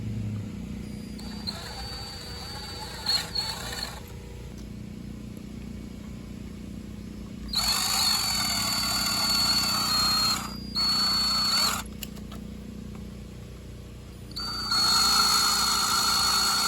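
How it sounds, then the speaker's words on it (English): A power drill whines in several bursts of a few seconds each, drilling out metal rivets on a Yoshimura Grom RS-2 exhaust, separated by quieter pauses with a low background hum. "you have to finish drilling through all of those rivets"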